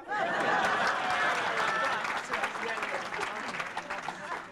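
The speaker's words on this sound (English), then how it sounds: "Give me a clap." An audience at a forum session bursts into applause, a loud burst of many hands clapping that tapers off over a few seconds, with some light laughter mixed in.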